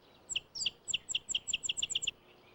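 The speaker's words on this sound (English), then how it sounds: "The rufous-winged sparrow sings all through the year." A rufous-winged sparrow sings a fast series of about a dozen sharp, evenly spaced high chips that speed into a short trill, heard clearly against a quiet background.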